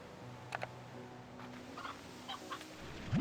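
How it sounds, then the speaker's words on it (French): Chickens cluck and squawk in Slime Rancher 2, a few short, fairly faint bursts scattered over a quiet game background with light clicking. "Des poules, je prends."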